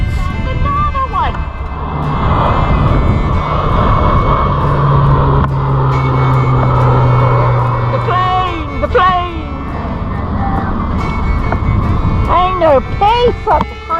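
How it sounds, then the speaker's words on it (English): An airplane flies over a quiet creek where people are out fishing, a steady broad drone that swells and lingers across the whole stretch, with voices murmuring beneath it. "You come up the creek for peace and get invaded by planes."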